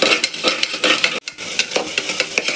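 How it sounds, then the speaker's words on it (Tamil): Tomatoes with coriander, turmeric and chili powders and garam masala sautéing in a pan for vegetable biryani, a steady close sizzle with repeated stirring scrapes and a brief pause midway. "தக்காளி கொஞ்சம் வதங்கட்டும்."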